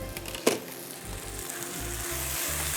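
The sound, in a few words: whole garam masala and cumin seeds sizzling in hot oil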